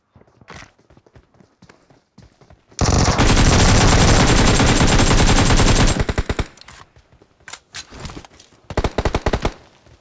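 Sustained automatic gunfire in the battle royale game BGMI: a dense, loud burst lasting about three seconds, followed by scattered single shots and short volleys, with no talk.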